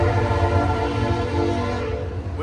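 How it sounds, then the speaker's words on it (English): A train rumbles steadily past nearby on the Mississippi River bank, a continuous loud low roar with horn-like tonal bands holding throughout, no voices over it. "With the train going by."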